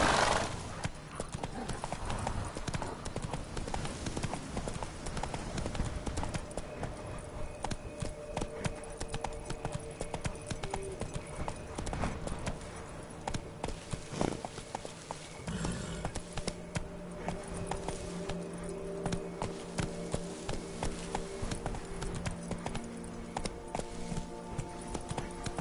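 Rhythmic horse hooves clip-clop at a gallop in the video game The Witcher 3: Blood and Wine, with an occasional whinny and game background sounds, steady and fairly close.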